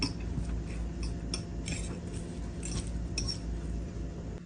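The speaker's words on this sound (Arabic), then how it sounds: "وأحرك الزعفران مع موية كادي" A spoon stirs saffron with kewra water for chicken kabsa, tapping and clinking lightly against the vessel over a steady background hum, close by and without speech.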